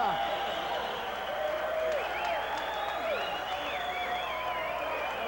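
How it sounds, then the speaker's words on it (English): A fight-night crowd applauds a kickboxer, a dense, continuous roar of clapping and cheering that stays steady throughout, with talk layered over it. "Now the applause is for Avery Albertson"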